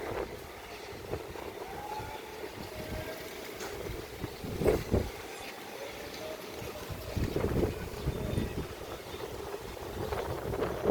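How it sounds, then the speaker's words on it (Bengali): Strong wind ahead of a Kalbaishakhi storm buffets the microphone on a rooftop, a continuous roaring rush with stronger gusts swelling now and then. "বাতাসের প্রবাহ প্রচণ্ড রকমের।"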